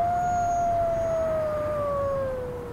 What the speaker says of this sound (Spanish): ¡Es ese perro que salvé!